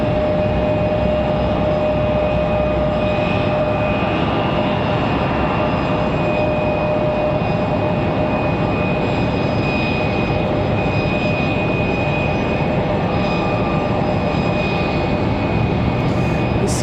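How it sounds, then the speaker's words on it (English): A CRJ regional jet taxis at Raleigh Durham airport, its engines giving a steady, loud, close whine and roar with a sustained tonal hum throughout, and no talk over it. "CRJ's in a hurry to get out of here."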